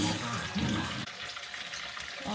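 Lukewarm water splashes into a bowl of yeast dough for Tibetan tingmo, a short, soft pouring rush that fades into quieter mixing noises.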